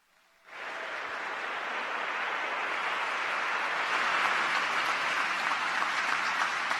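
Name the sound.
audience applause at citizenship ceremony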